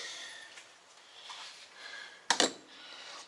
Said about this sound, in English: That cracking sound you heard was my hand.